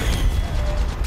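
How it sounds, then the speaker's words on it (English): Weapon reload in Apex Legends Mobile, a short burst of clicking, ratcheting mechanical clacks layered over steady game background noise, close and fairly loud. "Reloading"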